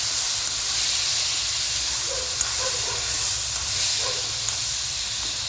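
Onions sizzling in hot oil in a pan for Mandya-style country chicken curry, a steady broad hiss and crackle that holds evenly throughout with no talk over it.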